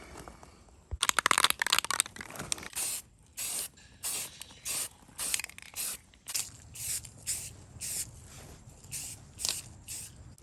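A spray can lays a green coat of paint on a shotgun for camouflage, a long hiss followed by a regular series of short bursts about a second apart, close and fairly quiet, with no talk.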